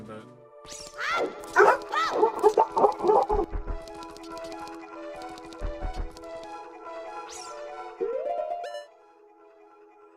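A dog barks and yips in a quick cluster of sharp, fairly close barks, then gives a few more scattered barks, heard over background game music and someone talking.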